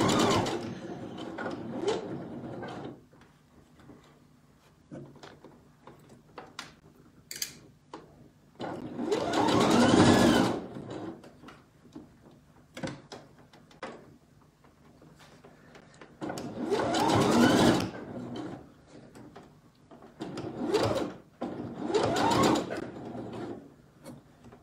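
A sewing machine stitches baby slippers in several short bursts of rapid whirring, each a few seconds long, separated by quiet pauses and small handling sounds, close up.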